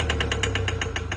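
Toyota Hilux engine cranking without catching, a steady rhythmic whirring pulse of roughly nine even beats over a low mechanical rumble, close and loud with no voices.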